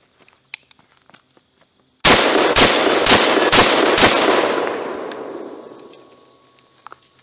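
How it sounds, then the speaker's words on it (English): A Panzer Arms Benelli M4 clone shotgun fires birdshot, five sharp, loud shots in quick succession whose echoing tail rings out and fades for a few seconds before quiet returns. "The gun cycled Birdshot flawlessly."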